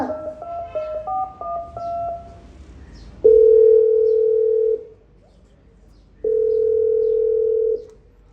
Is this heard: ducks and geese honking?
no